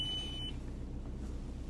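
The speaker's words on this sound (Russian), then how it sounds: "Мало топлива пищит." Low fuel warning beep in a VW Bora, a few short electronic tones near the start against a steady engine idle rumble, then fading to just the running engine.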